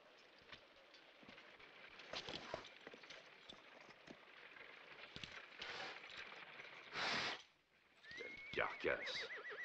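Horses in a western film setting shuffle and clip-clop with scattered hoof knocks, then one lets out a loud whinny and another neighs with a wavering trill near the end, all fairly close against quiet outdoor ambience.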